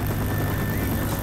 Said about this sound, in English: that helicopter is always so loud